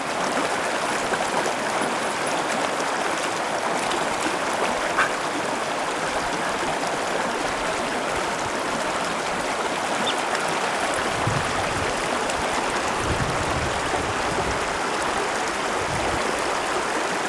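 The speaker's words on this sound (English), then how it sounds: "Stream's coming out from under the snow." A stream flowing out from under snow in Humphreys Basin rushes steadily, a constant broad watery roar close by, unbroken for the whole stretch.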